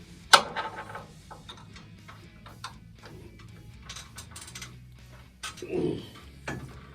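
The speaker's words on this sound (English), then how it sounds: "So to loosen this sector housing, there's 4 nuts, and you loosen the 4 nuts." Wrench working the four nuts on a Ford Model A steering sector housing, giving sparse metallic clicks and ratcheting scrapes with a few sharper knocks, close and fairly quiet.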